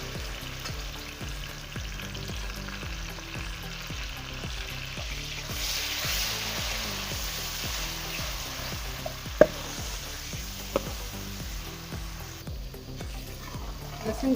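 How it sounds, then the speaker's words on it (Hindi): Garlic and ginger paste sizzling and frying in oil with onions in a pan, a steady close crackle throughout with a few sharp utensil clicks, no talking. "लहसुन की भुनाई लहसुन अदरक की तकरीबन हो चुकी है।"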